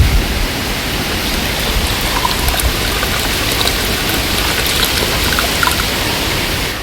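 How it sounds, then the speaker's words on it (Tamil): Dissolved jaggery syrup being strained through a filter for sweet upma, giving a steady, loud wash of pouring, trickling liquid that runs without pause and with no talking. "நான் இதை எடுத்து வடிகட்டி இந்த பாகு தண்ணியை எடுத்துக்க போகிறேன்."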